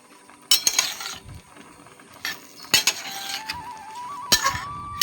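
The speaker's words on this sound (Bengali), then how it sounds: "এবার এই মশলার সাথে ঝিঙেটাকে ভালো করে নাড়িয়ে" Ridge gourd being stirred into spices in a pan, with a utensil clinking and scraping against the metal in several sharp knocks spread over a low steady sizzle, close and fairly loud, no talking.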